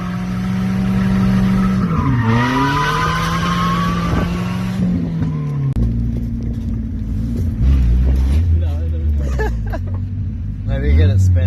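A first-generation car spins its tires, with a loud engine drone and rising rev, then a rougher, lower rumble as the wheels break loose, close by, with people talking over parts of it.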